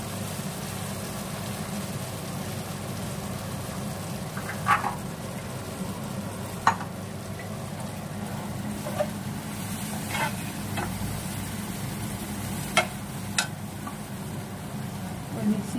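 Paneer rezala masala sizzles in a pan over low gas, a steady close hiss with occasional sharp spatters and utensil clicks, running under a person talking.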